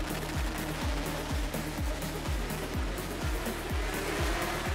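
Race cars launching at the start at The Bend Motorsport Park, a loud, dense roar of engines with rapid repeated popping bursts from gear changes and exhausts as the field pulls away.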